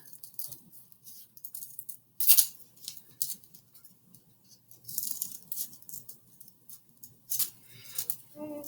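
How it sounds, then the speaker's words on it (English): Scissors snipping folded paper to cut out a snowflake, a series of quiet crisp cuts close by with soft rustling between them. "You definitely want to cut out a lot of the paper."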